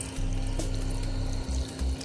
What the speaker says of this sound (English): The water just runs right off, does not want to stick to the vehicle.